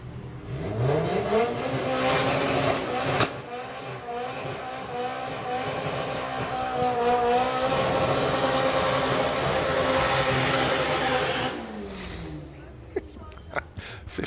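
A red early-1970s Chevrolet Corvette and a red old-school Chevrolet pickup drag racing at Santa Pod, with engines revving and roaring as they pass, loud and sustained before fading, while a commentator talks over the noise.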